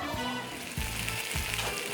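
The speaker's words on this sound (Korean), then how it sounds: "지글지글 맛있는 소리를 자체 효과음 삼아 등장하는 장작구이 통닭" Wood-fired whole chicken sizzling on a hot stone plate, a steady loud crackling fry with occasional heavier bursts, close up and with no voices.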